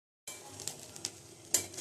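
Rice grains fried in a hot pan for a Bengali basanti pulao, giving a steady soft sizzle with light stirring scrapes and one sharper clatter near the end; no talking.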